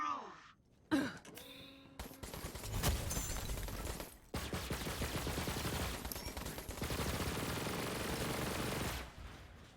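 Gunfire in Borderlands 3: a dense, rapid burst of automatic shots fills most of the stretch after a couple of sharp single reports and mechanical clicks, with the player talking over it.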